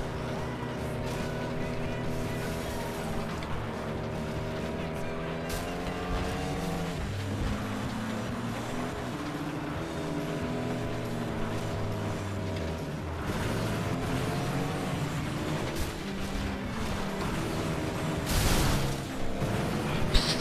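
Racing cars in the FlatOut 2 video game, urban racing cup, with a steady droning engine note that rises and shifts in pitch as gears change, continuous and fairly loud throughout.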